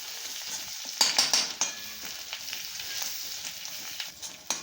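Chopped onion with Kashmiri red chilli powder and homemade masala sautéing in oil for masala paneer, a close, crackling sizzle with quick stirring scrapes throughout.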